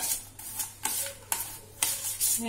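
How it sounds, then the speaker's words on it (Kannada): Roasted chickpeas and semolina stirred in a pan, a spoon scraping in repeated strokes about every half second with a faint sizzle underneath, close and moderately loud with no talking. "ಕಡಲೆ ಇಟ್ಟು ಆಮೇಲೆ ರವೆ ಎರಡು ಮಿಕ್ಸ್ ಮಾಡಿಬಿಡ್ತೀನಿ"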